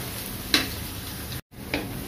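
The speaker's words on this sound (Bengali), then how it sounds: "পেঁয়াজটা আমি একটু ভেজে নিয়েছি হালকা" Onions frying with a little salt in a pan, a steady sizzle broken by a couple of sharp stirring scrapes and a brief moment of silence.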